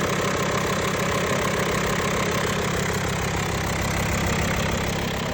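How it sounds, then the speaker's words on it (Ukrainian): A car engine idles steadily up close on a cold start, a rough, even rumble with a faint knocking tick running through it, no voices. "Двигун працює рівненько, на холоду"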